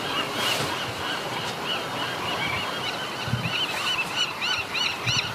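A bird calls outdoors on Alcatraz Island at night, with repeated honking, goose-like cries growing more frequent toward the end over steady surf and wind.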